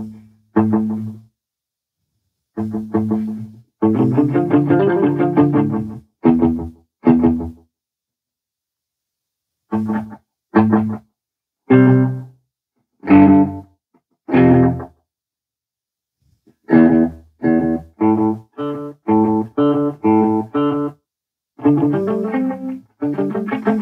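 An electric guitar played through a Caline Ragnarok delay and reverb pedal gives separate strummed chords and short riffs with echoing repeats, broken by silent gaps, with no talking.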